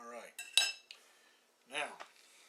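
Metal cutlery scrapes and clinks on a plate while cutting hamburger steak with mushroom and onion gravy, a few short sharp clinks and a brief ringing tap, close and quiet, with a voice speaking briefly between them.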